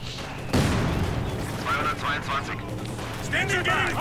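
Gunfire and artillery from the video game Company of Heroes 2, in a 1v1 match, open with a loud boom, then continue as rumbling battle noise beneath a commentator's steady talk.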